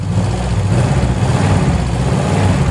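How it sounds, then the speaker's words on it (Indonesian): A car engine is revved during a pre-purchase inspection, giving a loud, close, steady mechanical drone with a rough low hum and no talking. "kalau digas-gas gini suaranya itu rata enggak?"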